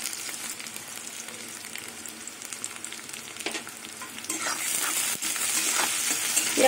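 Chopped onion with salt fries in a pan, giving a steady close sizzle with stirring scrapes that grows louder and brighter toward the end.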